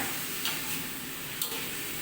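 Sambal goreng with salted fish frying in a pan, a steady close sizzle and crackle with faint stirring scrapes, no talk.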